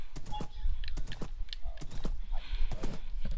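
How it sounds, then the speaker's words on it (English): Horse hooves in a video game clip-clop in a quick, uneven rhythm of sharp knocks that keep going steadily and close by, with no talking. "Ride a horse."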